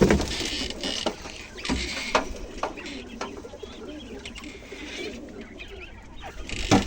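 Quail chicks chirp in a busy, continuous chorus of high, thin peeps, close by and fairly soft, with some faint rustling in the background.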